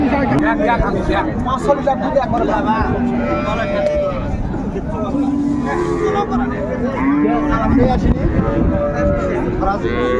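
Cattle at a busy village cattle market in Bangladesh, including cows with calves, low mooing calls rising over a constant crowd murmur, with people talking nearby throughout.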